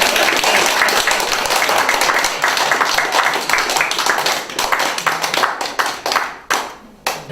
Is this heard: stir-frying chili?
no